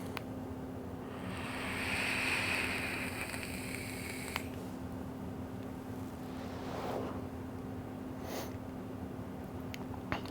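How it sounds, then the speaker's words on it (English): A blower cooling a radio amplifier runs with a steady hum and whooshing airflow, close and continuous, with a louder rushing swell early on. "This makes me want to install a different blower on this darn amp."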